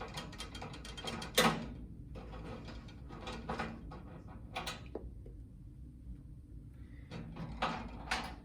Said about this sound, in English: So you unscrew.